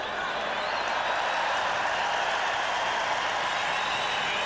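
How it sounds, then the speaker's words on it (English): A football stadium crowd at a 1990 CFL game between the BC Lions and Toronto Argonauts cheers and applauds a touchdown replay, a dense, steady roar heard from a distance throughout. "the fans cheer the flip on the replay one more time"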